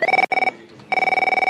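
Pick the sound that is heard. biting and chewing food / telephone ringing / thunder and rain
telephone ringing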